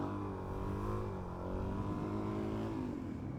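A motorcycle revs and accelerates steadily in second gear for a wheelie, its engine note rising at a moderate distance and fairly faint, with no voices.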